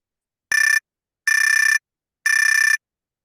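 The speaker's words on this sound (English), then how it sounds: "When time has expired, a bell will ring" Three electronic timer bell rings at a political candidate forum, each a steady bright tone: one short burst, then two longer ones, evenly spaced and clear, with silence between.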